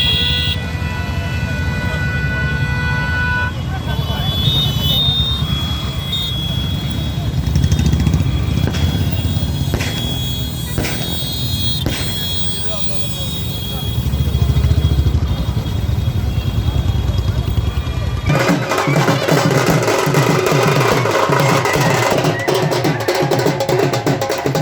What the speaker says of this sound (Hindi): इलाके में रमन भल्ला के समर्थन में एक बाइक रैली भी निकाली गई